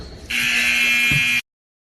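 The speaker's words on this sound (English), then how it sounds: "And that was at the buzzer." The end-of-game buzzer at a basketball game: one loud, sustained electronic buzz of about a second, cutting off abruptly.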